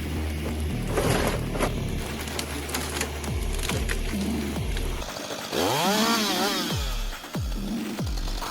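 A big chainsaw cutting a tree snarls loudly and close, with engine revs rising and falling in sweeping bursts, near-continuous mechanical whine and rattling, and no talk.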